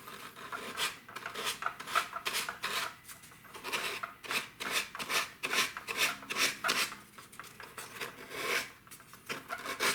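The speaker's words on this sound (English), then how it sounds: "we trim our edge, same way that we've been doing, just a piece of sandpaper." Rhythmic rasping strokes of a piece of sandpaper trimming the doped tissue edge on a model aircraft, repeated steadily and close up, with no talking.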